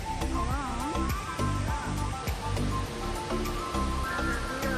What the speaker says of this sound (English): Another view of Reedy River Falls